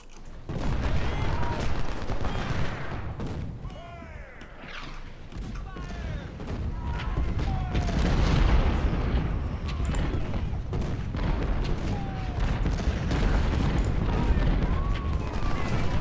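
Cannon and gunfire in the Ultimate General: Civil War video game, a dense ongoing barrage of booms and shots rumbling throughout, with battlefield noise and game voice cries layered over it.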